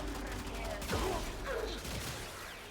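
Weapon fire from the video game Warframe crackles in dense, rapid bursts over a busy, noisy game soundscape, with chirping effects mixed in.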